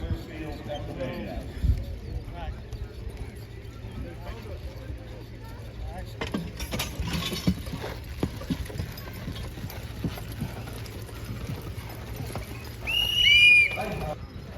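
Hooves of a heavyweight horse team at a horse pulling contest in East Arcade, New York, soft scattered thuds and clip-clop under steady outdoor background noise and people talking, with a brief louder burst near the end.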